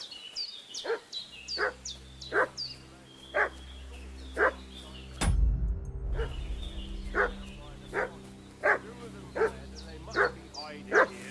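A dog barks repeatedly in Kingdom Come: Deliverance II, a steady series of single barks spaced about a second apart over a constant low in-game hum, broken midway by a brief loud thump.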